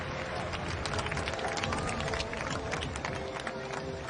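Crowd applause at a women's T20 cricket match between New Zealand and South Africa, a dense steady patter of clapping lasting about four seconds under a commentator's voice.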